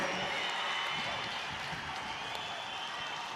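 A crowd at a large political conference claps and cheers continuously, a dense, steady wash of applause that stays at an even level throughout.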